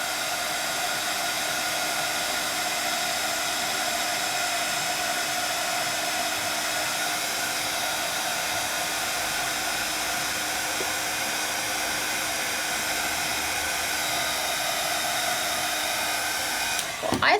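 A heat tool melts embossing powder on a stamped card, giving a steady, loud blowing whir close by. It runs unbroken throughout, then ends in a brief rattle.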